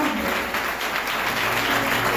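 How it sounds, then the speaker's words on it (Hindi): A church congregation claps together for Jesus during a healing prayer service, a dense, steady wash of applause filling the room without pause. "जोरदार यीशु के लिए ताली बजाओ।"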